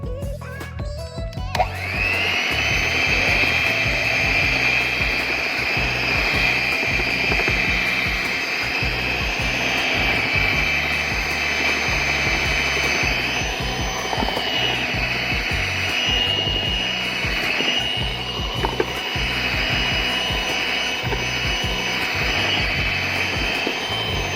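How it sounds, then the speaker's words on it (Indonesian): An electric mixer works flour, ice water and margarine into puff pastry dough, making a loud, continuous motor whir with a grinding, rattling texture that starts abruptly and runs steadily without talk. "Lalu langkah selanjutnya adalah kita mixer."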